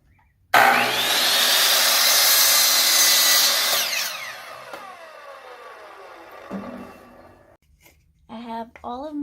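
A miter saw spins up loudly and bites through scrap wood for about four seconds, then winds down with a fading whine, followed by a brief clatter and a voice talking near the end.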